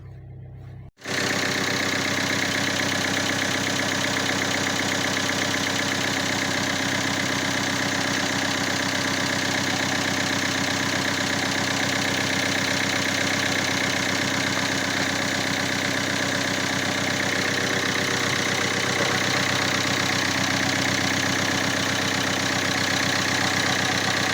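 A Kia Ceed car engine catches after a short crank and settles into a loud, steady idle that runs unbroken and close for over twenty seconds.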